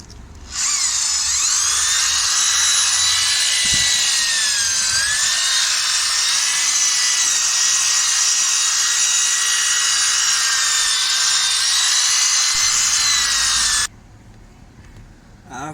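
A machine polisher runs steadily on a car headlight lens with polishing compound, a loud high whirring drone that holds for about thirteen seconds before cutting off into quiet room tone.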